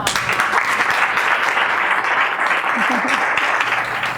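Audience at a business luncheon applauding a keynote speaker, dense steady clapping filling the room, loud and sustained with some voices mixed in.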